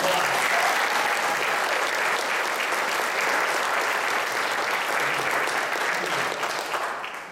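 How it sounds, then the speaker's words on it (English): An audience claps loudly and steadily for graduating high school students at a church service, a dense, sustained round of applause that tapers slightly at the very end. "Let's give them a huge round of applause."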